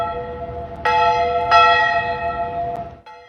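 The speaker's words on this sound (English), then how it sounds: "Bells were ringing through Loveland early this morning in honor of Veterans Day." Church bells in Loveland, Colorado ring loudly for Veterans Day with several clear, resonant strikes that overlap and hum as they fade.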